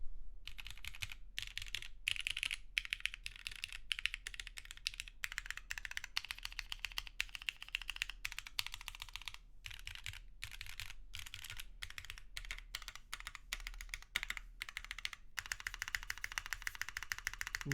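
Typing on a mechanical keyboard with MX2A black switches in an aluminum case and SWG Beige keycaps, a steady run of close, clacky keystrokes with brief pauses, no voices.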